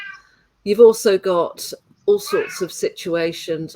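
A pet cat meows intermittently over continuous conversation between two people, its calls mixed in among their voices at close range.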